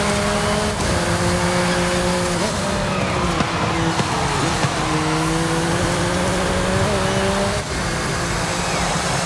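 A McLaren Artura in Forza Horizon 5 accelerates out of a corner, its steady engine note climbing and shifting through gears, loud and continuous throughout with faint talk underneath.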